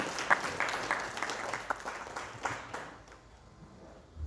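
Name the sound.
audience applause in a temple talk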